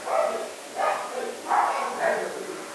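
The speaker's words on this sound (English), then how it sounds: "Dogs are barking their heads off at something" Several dogs bark in four distinct bursts, roughly evenly spaced, somewhat distant and moderately loud, with no talking over them.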